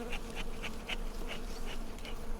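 Honeybees buzz steadily around a beekeeper's bellows smoker, which is fuelled with bay leaf and grass. The hum is close and continuous, and small pulses rise above it every few tenths of a second.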